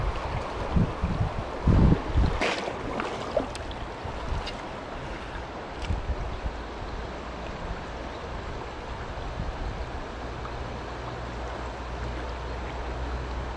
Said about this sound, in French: j'ai le vent qui vient m'emmerder tout au mauvais moment.